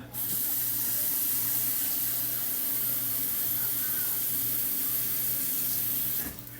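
Water runs from a tap into a very hot flan pan, a steady hissing, spraying rush that lasts several seconds before cutting off abruptly.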